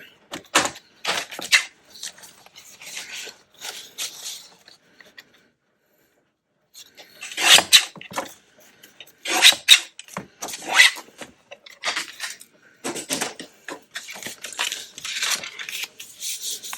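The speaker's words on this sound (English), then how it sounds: "I'm going to cut a little bit off the end." Scissors cutting a little off the end of a paper folder, close and crisp, in short bursts of snips and rustling with a quiet gap in the middle.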